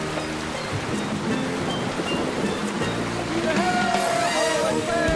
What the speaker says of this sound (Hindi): बारिश हो रही है, बारिश हो रही है।